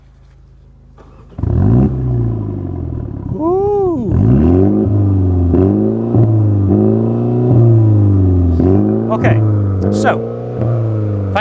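A Mini GP3 with a 2 litre four-cylinder B48 engine cranks and fires up, blips loudly once, then settles into a steady idle with several revs, and a person briefly exclaims over it.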